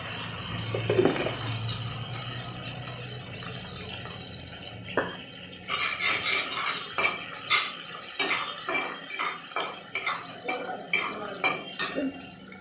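Green chilies stirred and sautéed in a pan, a spoon scraping and clinking against the metal in quick repeated strokes over a soft sizzle, growing busier and louder after the first few seconds.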